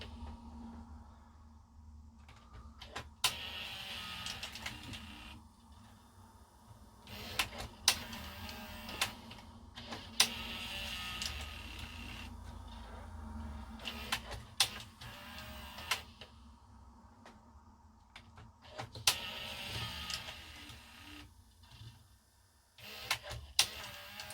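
The tape mechanism of a Philips Matchline VR6860 VCR whirs and clicks while lacing the tape, a faint motor hum broken by sharp mechanical clicks and clunks at irregular intervals, with no talk.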